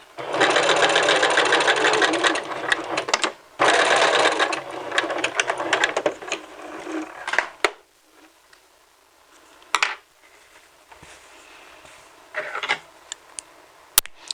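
A sewing machine fitted with a walking foot runs steadily along a dress center back seam, feeding two fabric layers; loud continuous stitching for several seconds with a short pause, then stops, followed by quieter handling sounds and brief bursts.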